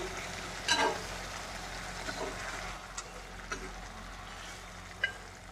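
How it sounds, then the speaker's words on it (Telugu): Egg curry gently stirred in a pan, with a steady soft sizzle throughout and a few scattered scrapes and clicks from the spoon, no talking. "ఇలా కొంచెం కదిలించండి."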